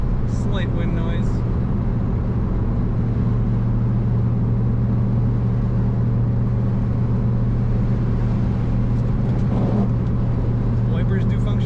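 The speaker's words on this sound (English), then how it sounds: "Slight wind noise." Inside a 1999 Pontiac Firebird Trans Am 30th Anniversary cruising at 60 mph, a steady loud road and engine drone with a low hum and a light rush of wind, unbroken throughout with faint brief noises on top.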